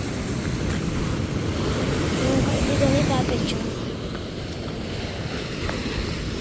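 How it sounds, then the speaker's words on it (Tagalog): Large ocean waves break around a small fishing boat in strong wind, a loud, rolling roar that swells in the middle. Someone talks briefly over the surf. "Ang laki ng alon guys, oh."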